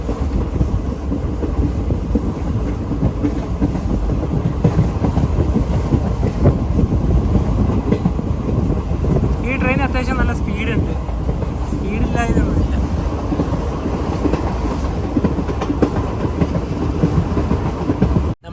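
Steady rumble and rhythmic clickety-clack fill the interior of a moving passenger train in Kerala, loud and continuous throughout, with brief voices and a few squeaks in the middle.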